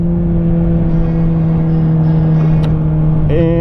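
A rebuilt motorcycle engine idles steadily and loud in the foreground, a constant low drone with a slight rise in pitch near the end as the throttle is blipped.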